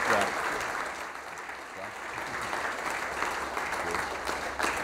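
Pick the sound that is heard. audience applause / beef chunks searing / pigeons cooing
audience applause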